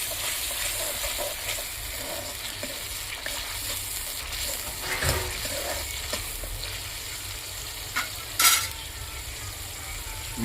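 Tomato paste with ginger-garlic paste frying in oil in a pan, a steady soft sizzle throughout with occasional stirring scrapes and a louder spatter near the end, no voices.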